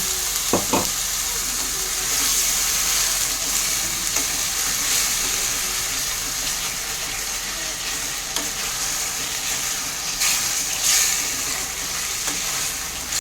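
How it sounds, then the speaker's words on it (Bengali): Water goes into an egg curry sizzling in a pan, and a constant loud frying hiss follows, with a few sharp clinks of a utensil against the pan. "এবার আমি এর মধ্যে একটুখানি জল দিয়ে দিলাম।"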